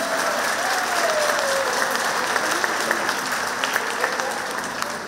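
Applause for visiting guests from Borovo at a gathering of pensioners from Banja Luka and Borovo, a full, sustained round of clapping from a crowd, evenly dense from start to finish, with a voice briefly heard underneath.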